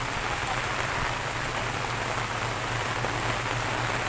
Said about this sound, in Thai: ฝนตกหนักครับ